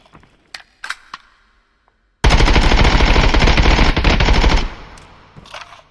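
Sustained full-auto burst of 5.56x45 rifle fire in the Contractors Showdown game, loud and close, running about two and a half seconds after a few scattered quieter clicks and shots.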